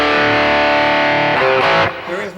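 Electric guitar played through a BOSS eBand JS with hall reverb, a sustained distorted chord ringing out loud and close, then a few quick notes with a reverb tail trailing off.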